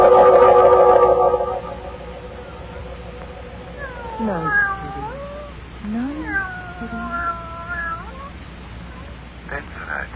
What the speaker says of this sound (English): Take the cat with you.